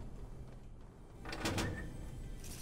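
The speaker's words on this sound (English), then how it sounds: "Wow, how did I just open both of those doors?" Doors swing open in the Fortnite video game, a pair of short, bright mechanical swishes in quick succession midway through, heard over a low steady game background with no talk.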